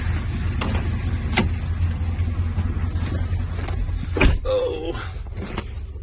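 A car engine idles steadily while warming up, a continuous low rumble filling the whole stretch, with a few brief clicks and a short whirring sound near the end.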